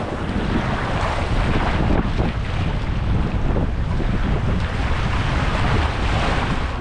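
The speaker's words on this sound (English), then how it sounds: "look at that, we're starting off with a rapid" Canoe paddling through a whitewater rapid on the Dog River, a steady loud roar of rushing water and heavy wind buffeting the microphone throughout, with no voices.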